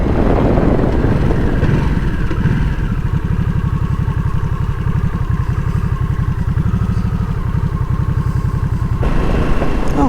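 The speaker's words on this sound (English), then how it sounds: "Oh, hey, another motorcycle." A motorcycle engine runs loud and close throughout, a steady throbbing drone heard from a rider on a Nightster 975 as another motorcycle goes by, with no talking.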